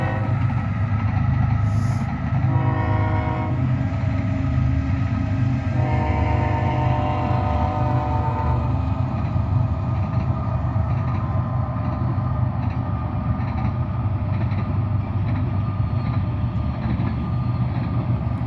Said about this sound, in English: And we got a train coming.